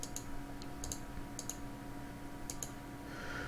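Several light computer mouse clicks, some in quick pairs, spaced irregularly and fairly close over a faint steady background hiss.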